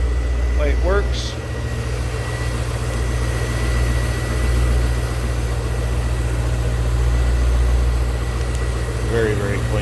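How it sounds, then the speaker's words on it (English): A 1998 Chevrolet Corvette's 350 V8 idles with a steady, close low rumble that holds even throughout, with brief faint voices over it near the start and end. "A little rumble out of that 350 V8 underneath the hood."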